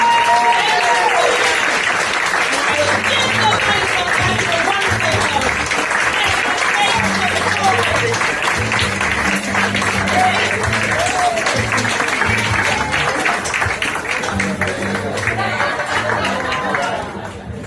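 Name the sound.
applause for comedian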